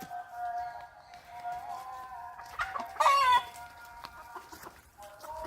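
Chickens cluck softly around a farmyard, then a rooster lets out one loud crow midway, with scattered faint clucks before and after at a modest distance.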